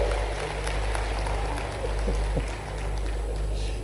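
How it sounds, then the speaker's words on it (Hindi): A crowd at a public address claps together, a fairly loud, dense clatter of hands with a few sharper isolated claps and a low rumbling background, lasting a few seconds without speech. "जरा ताली बजाओ तो दिल से बजाओ"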